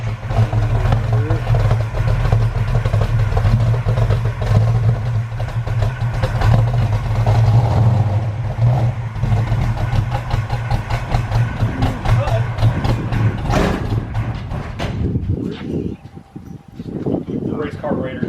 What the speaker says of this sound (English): The cold start.